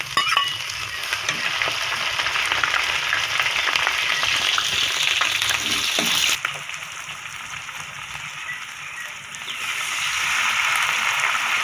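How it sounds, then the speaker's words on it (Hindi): Garlic-ginger paste frying in hot oil with whole spices in a cooking pot, a loud dense crackling sizzle that drops briefly partway through as it's stirred, then builds back up. "इसमें लहसुन अदरक का पेस्ट डाल दें।"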